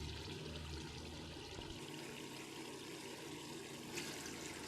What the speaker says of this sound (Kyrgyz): ошондо биз 2 подвод суу куябыз